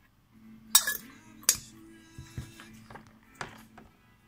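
A treatment mixture for orchid snails on a Dicksonia tree fern is stirred in a container, giving irregular close clinks and knocks with a low steady hum beneath and no talking.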